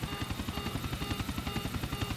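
A helicopter in the GTA Vice City roleplay game gives a steady, pulsing rotor chop at an even rhythm, loud and close throughout, with no voices over it.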